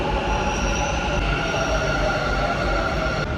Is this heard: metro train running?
yes